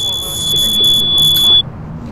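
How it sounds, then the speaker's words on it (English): A steady high electronic alarm beep in the GTA IV video game, sounding in loud pulses for about a second and a half before cutting off abruptly, with voices talking over it. "Who's getting a beeping in there? Is anyone getting a beeping?"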